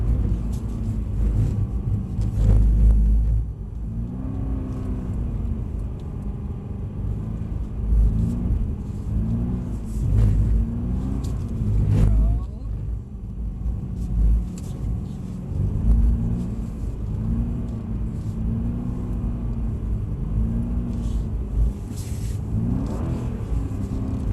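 A Mercedes-Benz car drifts on a track, its engine held high in the revs with repeated surges and dips, a loud, continuous rumbling roar close by, with no talk over it.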